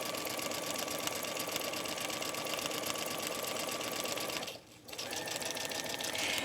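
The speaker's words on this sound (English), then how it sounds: "I'll continue to sew all the way down, removing my pins as I work along to prevent it from going underneath the needle" A sewing machine runs steadily while stitching a zipper into knit fabric with polyester thread, a close, continuous mechanical whir with fast rhythmic needle ticks, pausing briefly for about half a second near the end before resuming.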